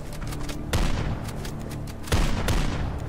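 Gunfire in a monster-hunting video game set in the woods, with a dense, continuous burst of rapid shots and two heavier booms standing out.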